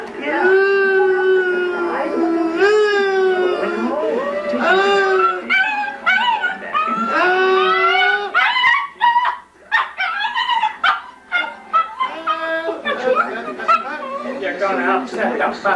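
A puppy howls and yips in long, rising and falling wails, a drawn-out singing cry broken by shorter whimpers and yelps, loud and near, with people talking over parts of it.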